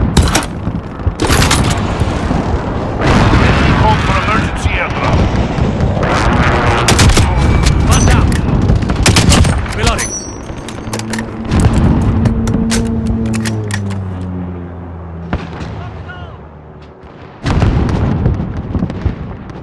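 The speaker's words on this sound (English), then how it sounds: "Enemy precision airstrike inbound." Precision airstrike explosions in Call of Duty: Modern Warfare, a loud barrage of booms and sharp cracks with a rumbling tail, fading to near silence before one last blast.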